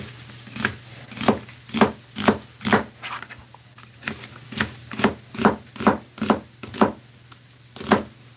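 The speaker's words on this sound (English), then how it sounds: "need to dice a little bit of onion" Onion being diced with a knife on a cutting board, a series of about twenty crisp, fairly close chops in quick uneven bursts.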